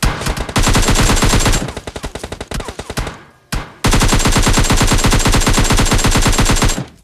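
Loud automatic rifle fire in the PUBG Lite battle-royale game rattles in long, rapid bursts, with a short pause and a sparser, uneven stretch of shots before the sustained fire resumes and runs to the end.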